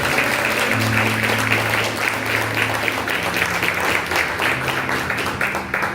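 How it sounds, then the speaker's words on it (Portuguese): A church congregation claps together over sustained music with held organ or keyboard tones, dense and fairly loud applause running the full length. "Se você quer, aplauda ao Senhor"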